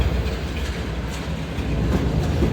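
Shalimar Express passenger train approaching Nawabshah railway station, running late: a steady low rumble of rolling wagons with faint rhythmic clatter, close and continuous, no voices.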